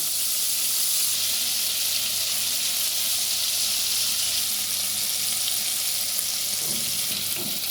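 Prawns fry in hot oil in a pan, a loud, dense, unbroken sizzle that holds steady throughout, with a slight stir or shift near the end.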